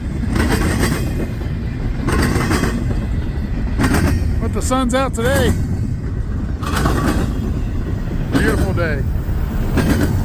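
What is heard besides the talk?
freight train passing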